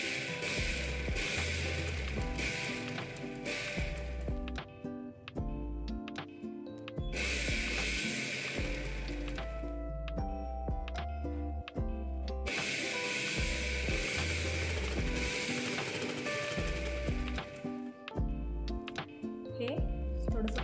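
Sewing machine stitching a katori blouse, running in steady mechanical bursts with brief pauses, loud and close, with someone talking over it.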